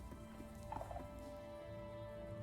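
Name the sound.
chicken clucking in a video game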